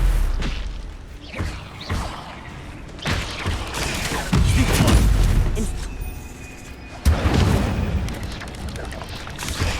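Incendio fire spell cast over and over in Hogwarts Legacy combat, heavy booming blasts and whooshing bursts mixed with other spell impacts, while a player talks over the action.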